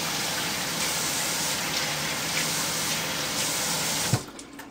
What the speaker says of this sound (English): Just wash my hands now that I touched it.